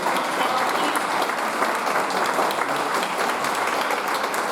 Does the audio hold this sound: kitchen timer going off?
no